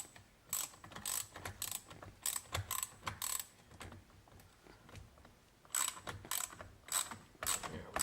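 A socket ratchet turns a steering wheel bolt on a Chevrolet Corvette C8, giving close, sharp clicking bursts in repeated short strokes separated by brief pauses, with no voices.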